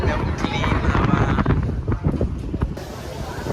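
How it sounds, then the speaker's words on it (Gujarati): Wind at the New York waterfront facing the Statue of Liberty and New Jersey buffets the microphone with loud, rough, continuous rumbling gusts that ease slightly toward the end. "સામેની સાઈડ ખૂબ જ સરસ હવા આવી રહી છે"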